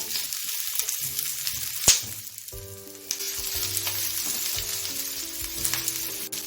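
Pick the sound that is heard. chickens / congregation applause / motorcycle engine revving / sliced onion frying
sliced onion frying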